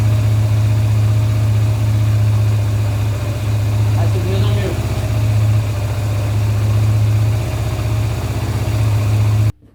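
A Yamaha Virago 125 motorcycle engine idles with a steady, loud low-pitched drone, running continuously before cutting off at the end, with a brief voice partway through.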